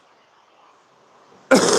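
A single sudden cough from a man who has been unwell, loud and close, bursting in after a near-silent stretch and cut off at the end.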